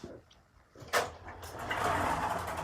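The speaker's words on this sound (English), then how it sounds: "the doors close, and it starts going down." Bifold elevator doors slide shut with a brief clunk in a house, then the car starts its descent with a steady, rising mechanical hum that continues to the end.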